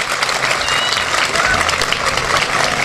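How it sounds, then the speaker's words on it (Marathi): An audience at a Marathi business lecture claps steadily in a dense, continuous patter of applause, loud and close, with no pauses. "टाळ्या वाजवा"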